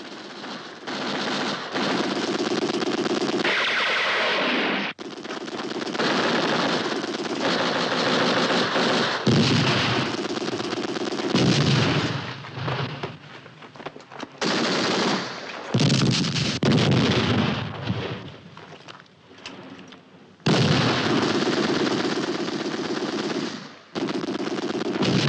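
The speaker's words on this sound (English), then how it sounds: "Lay down mortar fire." Heavy machine-gun and mortar fire in a war movie battle, with loud sustained rattling bursts and booming blasts that continue almost without pause and stop only briefly between volleys, with no voices.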